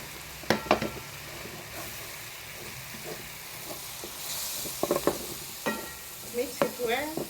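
Spices being stirred in a pan on the stovetop for a pizza topping: a soft, continuous sizzle with scattered clinks and scrapes of the spoon against the pan, close and fairly quiet.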